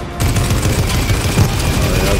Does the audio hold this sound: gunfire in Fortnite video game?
yes